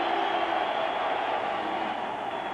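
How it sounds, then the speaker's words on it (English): A 1991 NFL stadium crowd at a Miami at New York Jets game roars steadily to urge on the Jets defense, a dense sustained wall of cheering at even loudness throughout. "the crowd urging the Jet defensive unit on"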